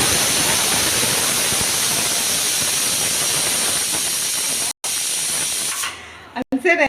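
Hot oil tempering is poured into a cooked vegetable curry, setting off a loud, steady, close hissing sizzle that lasts about six seconds, then fades with a few soft clatters.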